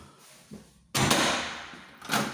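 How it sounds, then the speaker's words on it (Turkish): A fire door fitted with a newly installed safety lock swings shut: a soft knock comes first, then a loud, solid closing thud, and a second knock follows near the end. "Kapıyı kapatıyoruz."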